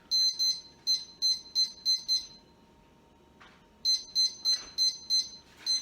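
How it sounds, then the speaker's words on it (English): A kitchen oven timer gives a run of sharp electronic beeps in two bursts separated by a short pause, loud and close in a quiet home kitchen. "Let me set my timer."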